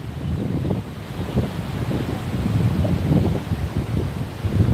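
Wind buffets a microphone on a beach at Hua Hin, making a continuous low, rumbling roar with gusty swells and no speech.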